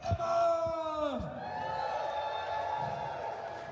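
Festival crowd cheering for drummer Emma Taylor at Download Festival, a steady wash of whoops and shouts following a loud voice, sustained throughout at moderate distance.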